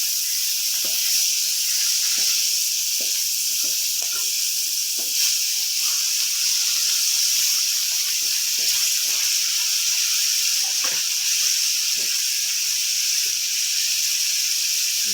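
Dried hilsa fish frying in hot oil makes a loud, constant hiss close by, with scattered small pops and faint scrapes under it and no talking.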